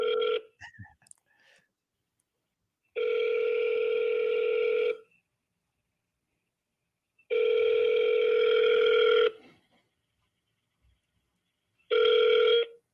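Outgoing telephone call ringing back three times in long, steady two-second tones separated by silent gaps, then cut off partway through a fourth ring, clear and close through the handset.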